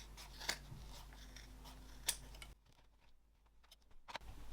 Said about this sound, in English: So trim off about half of that seam allowance.